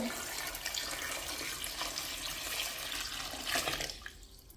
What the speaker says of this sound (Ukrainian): студену воду заливаю.